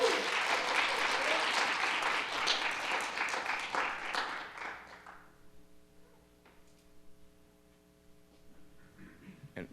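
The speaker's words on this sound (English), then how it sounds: "Clap for Matthew" Audience at a live storytelling event applauding warmly for about five seconds, then fading out, leaving quiet room tone with a sustained tone and faint movement.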